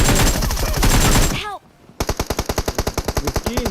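Rapid automatic rifle fire from AKM and Groza guns in a video game, a dense loud burst that breaks off into a brief lull before a steady, evenly spaced volley of close shots resumes.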